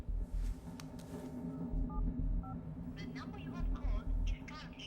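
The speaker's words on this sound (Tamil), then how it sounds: "அண்ணன் போன் போடுறான்." A few short, clipped dialing beeps from a phone keypad in a tense Tamil film scene from Ivan Veramathiri, sitting over a low rumbling music bed with a faint voice in the background.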